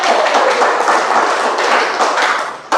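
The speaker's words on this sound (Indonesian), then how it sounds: "tepuk tangan" A crowd at a community organization gathering bursts into dense, steady hand clapping, loud and close, holding for a few seconds before tapering slightly at the end.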